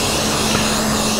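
A pressure washer jet sprays a motorcycle from a short distance, making a steady, loud roaring hiss over a low motor hum that runs without a break.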